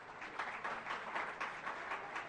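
An audience at a Jain religious discourse claps loudly after a donation is announced, a dense, steady wash of applause lasting a few seconds with no talk.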